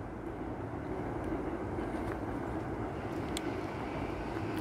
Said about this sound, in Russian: А там уже слышен стук колес электропоезда проезжающего.